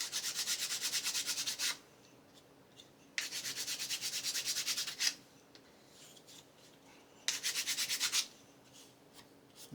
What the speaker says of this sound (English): I got to make sure that there's no tips on there. So I'm going to do that with my sanding stuff.